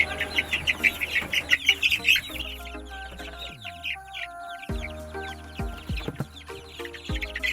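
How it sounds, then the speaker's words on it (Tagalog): Rhode Island Red chicks being moved into a drum before vaccination peep in a dense high-pitched chorus that thins out into scattered chirps, with a few dull knocks and thumps from the container. "ilalabas ko yung mga sisiw nilalagay ko lang sa isang lagayan o drum"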